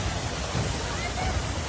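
Floodwater rushes at storm speed down the stairs inside an Istanbul metro station, a steady, dense roar of churning water with no breaks, loud and close, with a crowd gathered nearby.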